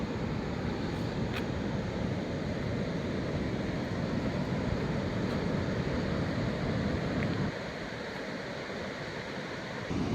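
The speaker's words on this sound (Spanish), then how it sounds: "Hay alerta naranja, riesgo de ciclón por fuertes lluvias, muchísimo oleaje, vientos increíbles y bueno, hemos llegado a la playa." Strong ocean waves and gusting wind at a beach in Brazil during a cyclone alert, a loud, continuous roar of surf and wind buffeting the microphone with no pause.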